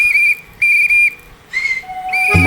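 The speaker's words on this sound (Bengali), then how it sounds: "তাড়াতাড়ি সিটি মারি।" A person blows a shrill whistle as a signal while hiding behind a bush near a house. The whistle comes in three clear, high, sustained blasts separated by short gaps, close and loud, and ends on a brief clatter.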